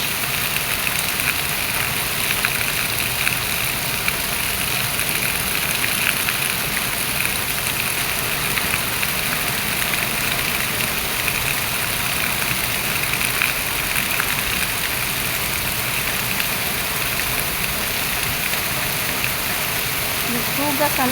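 Steady rain falls on and around a church in a continuous dense hiss, loud and unbroken throughout, with a low engine-like rumble underneath.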